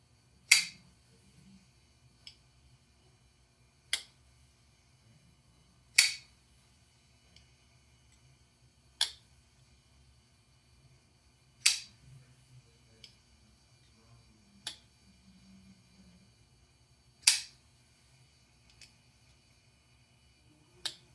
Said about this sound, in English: I'm going to go ahead and flip this open and closed silently, just so you can listen to the acoustics